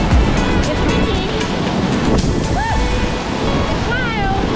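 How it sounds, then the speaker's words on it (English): Strong wind buffets the microphone by the ocean, with surf washing steadily beneath the roar and a few faint voices in the background. "It's windy."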